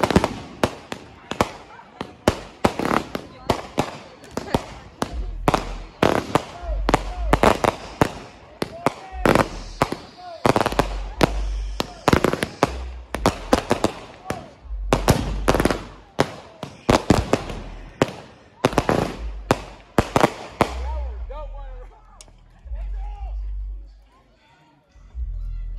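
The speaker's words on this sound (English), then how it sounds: "Firecrackers going crazy." Firecrackers and fireworks burst repeatedly outdoors during a Columbus, Ohio block celebration, loud, close, rapid irregular bangs in clusters, with people talking in between and a quieter tail at the end.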